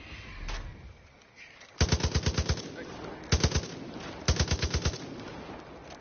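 Far Cry 5 gunfire: three distinct rapid bursts of loud, close automatic shots, each a fast string of sharp cracks, after a lone single shot, with a voice briefly heard early.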